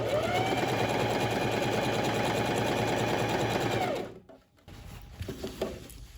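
A sewing machine runs a fast, continuous whirring stitch up close as it sews a safety seam on a dress, then stops abruptly, followed by soft handling noises.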